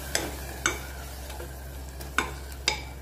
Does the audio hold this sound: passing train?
no